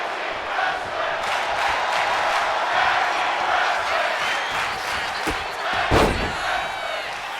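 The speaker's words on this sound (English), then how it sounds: "The crowd going crazy, yelling tag team wrestling." A wrestling video game arena crowd roars and cheers steadily at loud volume during a tag team match, with a couple of thuds near the end.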